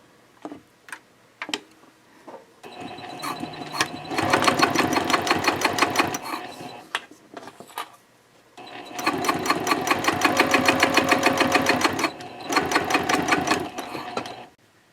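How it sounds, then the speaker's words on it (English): A sewing machine stitches the card slot of a trifold wallet made of Cordura fabric, running in two long loud bursts at a 3.0 stitch length, separated by a pause with a few small clicks and taps. "Then I can flip it over and sew the card slot in on the other side."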